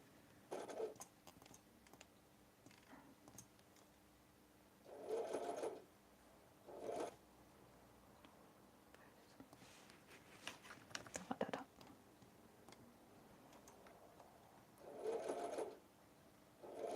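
A sewing machine stitches scrunchie fabric in several short bursts of a few seconds each, close but quiet, with soft handling noises between runs.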